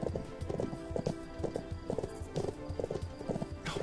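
Horse hooves clip-clop at a brisk, steady rhythm in the Bibi & Tina horse farm video game, with clear repeating hoofbeats and game sounds mixed in.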